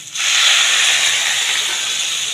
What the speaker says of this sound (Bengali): এবারে দিয়ে দিচ্ছি সিদ্ধ হওয়ার মতো জল।